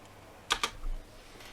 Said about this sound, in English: So if I type out A3S